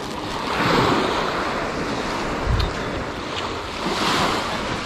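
Ocean surf washes onto a Malaysian beach in steady, loud swells, with gusting wind buffeting the microphone and no voices.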